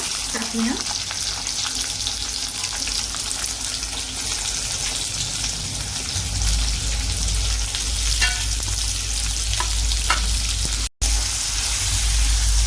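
Sliced onion and curry leaves sizzle steadily in a hot pan for potato bhaji, a continuous frying hiss with occasional stirring clinks and a brief pause near the end.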